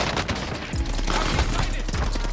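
Gunfire in Call of Duty: Warzone, several rapid bursts of automatic shots cracking over a steady game background, fairly loud and close, with faint voices.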